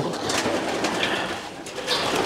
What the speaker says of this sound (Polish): To są gołębie zaciemniane.